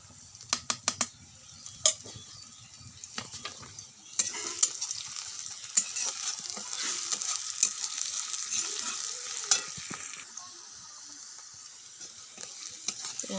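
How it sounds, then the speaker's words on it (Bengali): Onions frying in a home-kitchen pan with green chillies give a steady, close sizzle, with a few sharp clicks and taps from stirring at the start before the hiss settles into an even, continuous fry. No one speaks. "পেঁয়াজটা আর একটু ভাজা ভাজা করে নেবো"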